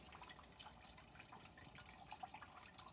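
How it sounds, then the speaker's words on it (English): Water drips and trickles behind the fans of a custom 12V swamp cooler, a faint, steady patter with scattered small drops, alone with no talking. "I do have water dripping down behind those fans. You can hear it."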